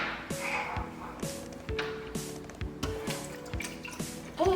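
Milk poured from a container into a mixing bowl for crepe batter, a light liquid splash and trickle with soft dripping tones, fairly close, in a quiet kitchen.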